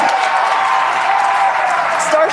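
Crowd noise rises behind a launch broadcast after Starship engine cutoff on the third integrated flight test, a steady wash of distant cheering and applause lasting the whole stretch with no break.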